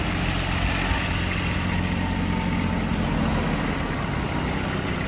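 A Kubota GB155 small tractor's engine runs steadily while the machine turns on the spot, a loud, continuous, close diesel drone with no voices.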